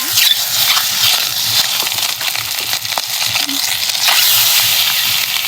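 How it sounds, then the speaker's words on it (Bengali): Eggs frying in hot oil in a pan over a clay stove, a steady bright sizzle with crackles and spatters running throughout, close and fairly loud. "ডিমগুলো তেলে এখন আমি ভেজে নেব"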